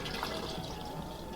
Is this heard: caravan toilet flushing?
yes